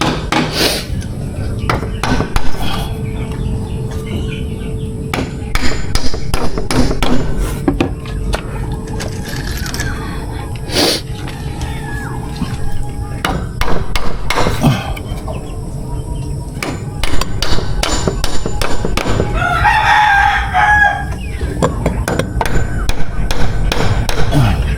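Someone hammers nails into a wooden chair with sharp, irregular knocks and some mechanical rattling, loud and close, while a rooster or chickens cluck faintly in the background.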